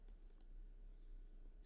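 A computer mouse clicks quickly three times in a row, sharp, small and faint at the start, followed by a quiet room and one more soft click near the end.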